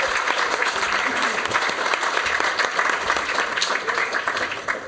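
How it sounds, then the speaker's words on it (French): An audience at an evening comics-anthology event applauds its guests, a dense, lively clatter of many hands close by that carries on steadily for several seconds, with a few faint voices mixed in. "on peut déjà applaudir bien fort nos invités du soir"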